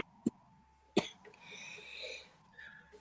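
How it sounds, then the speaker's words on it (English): Two short, sharp coughs close to the mic, the second louder, followed by quiet room sound and faint background tones. "Coughs."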